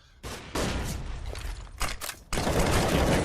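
Rapid Tech-9 gunfire rattles in loud bursts during a professional Counter-Strike match at IEM Katowice, with a brief lull before a second heavy volley.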